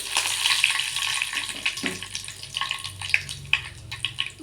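Mustard seeds and curry leaves sizzling in hot oil in a pan while cooking a chickpea usli, a steady crackling sizzle with small pops, close and alone without talk.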